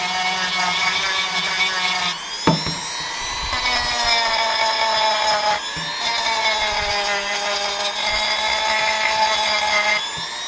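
A power sander whines steadily against the wooden base of a model, its pitch shifting slightly as pressure changes, with a brief knock partway through.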